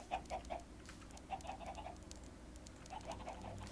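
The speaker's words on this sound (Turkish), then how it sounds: "Ne yapıyorsunuz lan tavuklar?" Minecraft chickens cluck in short clusters of soft, faint clucks with gaps between them over a low background hum, and no voices.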